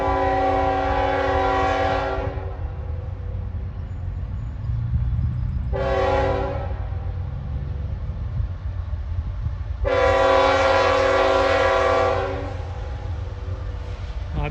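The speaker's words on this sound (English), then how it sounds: "It's my second CSX train." A CSX freight train passes in Kenova, West Virginia, its horn sounding three separate long blasts over the steady rumble of rolling cars, moderately loud and without talk.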